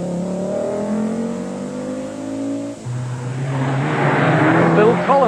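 A 1980s Audi Quattro rally car drives during the 1987 Circuit of Ireland stage, its engine droning steadily and then rising into a harsher, louder rasp as it accelerates nearby, with a commentator talking throughout.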